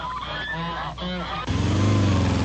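Ducks in flooded rice fields, honking and quacking calls close by, several harsh cries in the first half followed by a louder, denser stretch of calling mixed with a low rumble.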